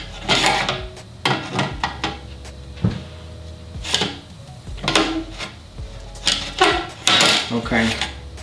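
A Festool FS-WA accessory is slid onto a Makita guide rail: a series of scattered metallic clacks, scrapes and knocks in uneven bursts, close and fairly quiet, with short pauses between attempts.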